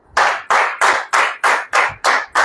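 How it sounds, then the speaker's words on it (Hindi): A church congregation claps hands in unison, eight sharp loud claps in a steady even rhythm, close and with no talk over them. "अब ताली बजाओ।"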